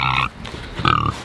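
Pigs on a small homestead give two short bursts of grunting, close by, with a brief quiet gap between them and no talking.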